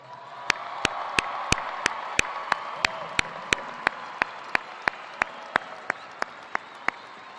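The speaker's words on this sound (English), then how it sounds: "round of applause." Graduation audience applauds the class of 2014 at a spring commencement, a steady wash of clapping with a few sharp, evenly spaced loud claps standing out above it throughout.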